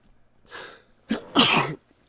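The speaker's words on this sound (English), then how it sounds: "I got to sneeze." A single person's sneeze, close and sharp: a soft inward breath, a short pause, then a burst that expels the sneeze, with no talking over it.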